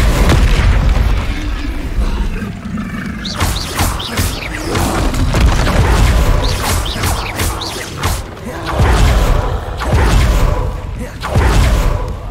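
Confringo and Incendio spells exploding in Hogwarts Legacy, a run of loud booming blasts and crashing bursts in quick succession, with fiery crackles between them and no speech.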